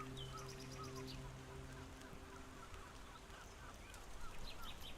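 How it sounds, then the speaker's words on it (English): Seagulls cry in Tainted Grail over a constant wash of waves, several calls close by early on and scattered shrieks later, with a low murmured voice. "listening to waves and the screams of seagulls and old men"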